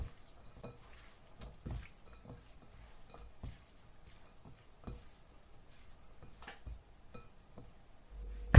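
Shredded potato being mixed with starch and ground Sichuan pepper by hand in a bowl, heard as soft, irregular squishy rustles and light knocks, close and quiet, with no voices.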